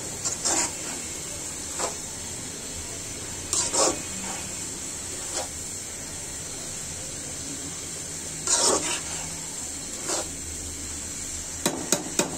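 Pre-boiled cabbage and chicken meat sizzle in a frying pan with a steady hiss, punctuated every few seconds by sharp scraping or tapping bursts from stirring, with no one speaking.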